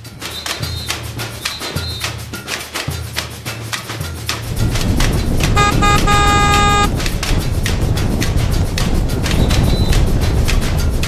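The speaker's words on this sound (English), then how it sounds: "It's necessary on the corners to use your horn" A BMW F650 GS Dakar motorbike honks on mountain road corners in Peru, several short repeated horn beeps over engine noise, then a longer sustained blare under louder road and wind rumble.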